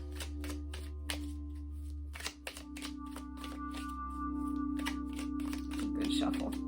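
Tarot cards being shuffled by hand, a quick run of crisp, regular riffling snaps over a steady low hum, fairly close, with talking starting near the end.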